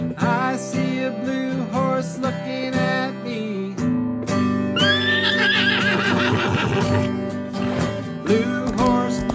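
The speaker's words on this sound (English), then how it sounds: "I see a blue horse looking at me." A horse neighs loudly with a long, wavering whinny rising and falling over a steady musical backing in a children's picture-book song, with no talking over it.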